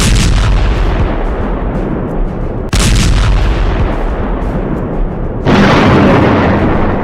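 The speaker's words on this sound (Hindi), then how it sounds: "गाजा पर हो रही इजराइल की दिन रात बमबारी और धमाके देखकर लगता है" Loud, dense booms and rumbling blasts from Israeli bombing in Gaza, with sharp bursts at the start, near three seconds and near five and a half seconds over a continuous roar.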